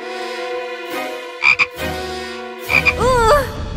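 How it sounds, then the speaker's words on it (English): A frog croaks loudly and close by in a series of deep, buzzing calls, with a couple of short chirping squeaks breaking in midway and a rising warble toward the end. "Maybe it's a frog?"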